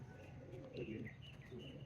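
Soft, low pigeon cooing in a noisy background, faint and continuous over about two seconds.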